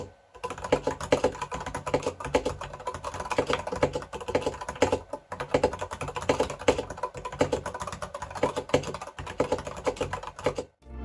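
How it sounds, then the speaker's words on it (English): Rapid typing on an Anne Pro RGB wireless 60% mechanical keyboard with brown switches, a dense, continuous run of fairly muffled key clicks heard up close, with only brief pauses and no talking. "The sound from the brown switches is a bit more muffled than the blue ones"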